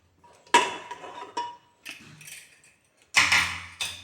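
Metallic clanks and scrapes of a pressure cooker lid being opened after its whistle weight is removed, cooking tapioca and taro leaves, heard as a few separate close knocks and rattles.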